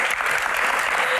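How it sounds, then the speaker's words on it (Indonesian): A brief, dense burst of audience clapping at a Q&A session, loud and close, with many hands blending into a steady roar. "Tepuk tangan"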